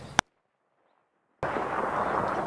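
A single sharp gunshot cracks out in a field during a combat engagement in Wardak Province, then near silence, then a sustained loud rush of noise.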